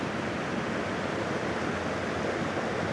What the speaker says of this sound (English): The water just comes down and flows up.